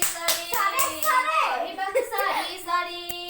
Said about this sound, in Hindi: clap clap clap clap